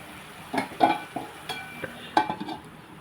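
A spoon stirs amaranth leaf curry in a pot, making scattered metallic clinks and scrapes at an uneven rhythm over a faint background hiss, with no talking.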